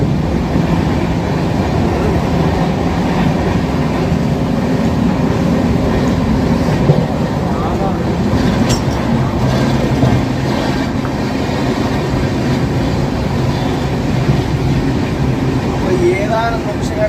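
Steady rumble and rattle from inside a moving passenger train nearing Varkala, with continuous broadband noise, rhythmic clatter and occasional squeaks, loud and close throughout.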